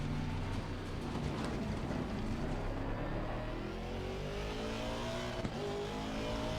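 A race car's engine roars through a lap in Assetto Corsa Competizione, a loud, continuous, close drone climbing in pitch as it revs, with a sharp gear shift partway through.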